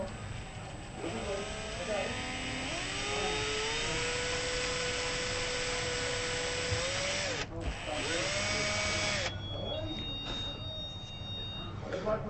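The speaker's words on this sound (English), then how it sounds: "Don't drill all the way through the neck, man" A power drill bores into a guitar neck on a workbench, whining steadily with rising and falling pitch as the bit bites, briefly pausing, then resuming more quietly.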